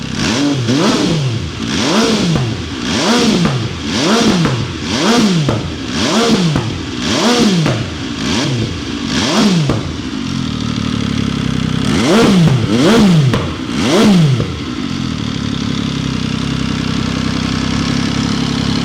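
A 2020 MV Agusta F3 RC triple-cylinder race motorcycle with a full race kit revs repeatedly up close, a string of sharp rising and falling throttle blips over idle, then a pause and a few more quick revs.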